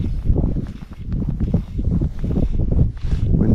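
Wind gusts across the open water of Penstock Lagoon in Tasmania, a loud, rough roar buffeting the microphone, rising and falling continuously with no voices.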